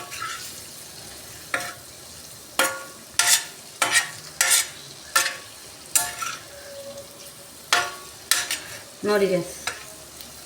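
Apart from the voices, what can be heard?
paneer frying in a pan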